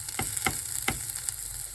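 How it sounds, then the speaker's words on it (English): Ground coriander, cumin, turmeric, chili powder and paprika frying in a pan, a steady hiss with a few quick scraping stirs, close and quiet, no talking. "Now we're gonna stir in the ground coriander, cumin, turmeric powder, chili powder, and paprika."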